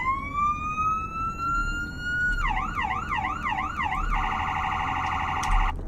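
Police siren on a Roblox Greenville police car, a rising wail giving way to a rapid yelp and then a fast hi-lo warble, fairly loud and unaccompanied.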